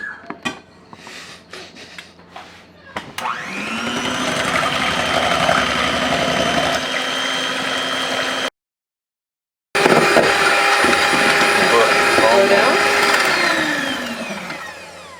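An electric hand mixer whirs steadily and loudly through a bowl of raw egg whites, beating them toward soft peaks, with a brief break in the middle before it resumes and then winds down.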